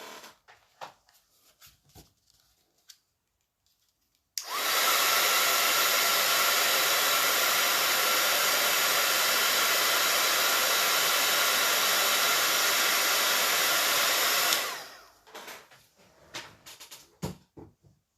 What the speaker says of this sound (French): Attention Fabrice, je remets le sèche-cheveux en route